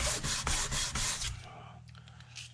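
Hand sanding of hard body filler with sandpaper on a Jaguar MKII, a run of close, loud rasping strokes in quick rhythm that stop partway, leaving quieter scraping and a lull.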